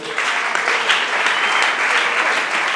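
Audience applause at a church women's conference, a dense burst of clapping that fills the hall evenly for a few seconds without speech.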